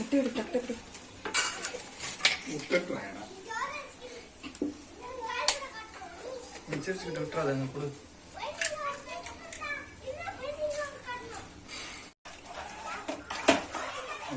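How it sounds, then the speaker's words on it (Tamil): An egg cracked and poured into a pan with bread cooking in plenty of ghee, with sizzling, stirring and clinks of cookware under frequent talk and children's voices. "முட்டையை உடைச்சு உள்ள ஊத்திக்கலாம்"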